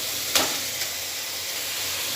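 Pointed gourd (potol) frying with spices in a pan gives a steady hiss, broken by two quick sharper spits, with no voices.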